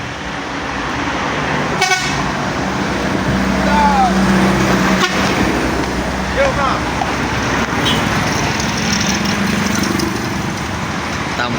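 A big tourist bus passes on a mountain highway bend between Bukittinggi and Padang Panjang, its horn tooting briefly amid steady, fairly loud roadway and engine noise.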